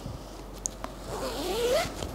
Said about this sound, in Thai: ตัวหมอนนะคะก็จะมีซิปอยู่ด้านข้างแบบนี้นะเดี๋ยวเราเปิดกันนะคะ